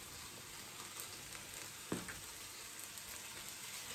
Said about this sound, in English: now I'm going to go in with my cleaned minced beef, 500 grams